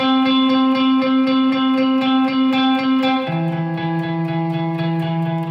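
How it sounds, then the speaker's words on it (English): An electric guitar plays sustained, heavily reverberant chords, the notes washing into a long echoing tail before shifting to a lower chord, loud and without voices. "Too much reverb."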